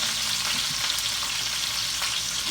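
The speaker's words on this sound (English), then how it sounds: "I'm gonna brown this meat off." Ground meat browns in a pot with a steady, fairly soft sizzle and crackle that holds evenly throughout.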